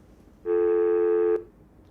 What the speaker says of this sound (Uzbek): Qo'ng'iroqni amalga oshiryapman.